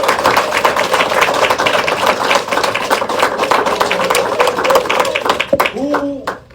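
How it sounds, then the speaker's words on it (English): Applause breaks out at a village council meeting as the audience honors a youth program, dense steady clapping filling the room for several seconds under a murmur of voices before fading out at the end. "Let's give them a round of applause."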